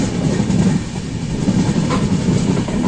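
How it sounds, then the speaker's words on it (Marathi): The Mandovi Express rolls along the Konkan route, a steady low rumble of the moving train with faint rhythmic wheel clatter, heard from inside the coach without talking. "ट्रेन सुरू झालेली आहे"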